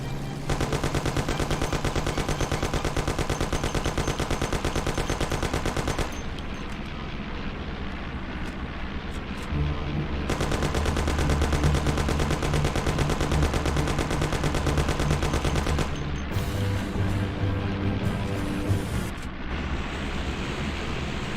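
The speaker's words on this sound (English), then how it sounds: "You and Sam shoot them." Heavy gunfire in a Mafia video game cutscene: loud, dense bursts of automatic fire and rapid shots rattling almost continuously, with brief shifts in intensity and a roaring engine-like rumble underneath.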